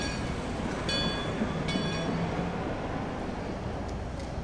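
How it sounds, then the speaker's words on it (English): A steam train in the video game Over The Alp rumbles and hisses as it prepares to depart a station, with a continuous heavy low noise and a few brief metallic clanks and squeaks partway through. "The train behind me was gathering steam. It will be departing soon."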